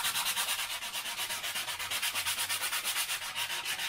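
Close, rhythmic sanding strokes on a 3D-printed lightweight PLA part rasp back and forth in a quick steady pattern, a soft gritty scrubbing with no voices.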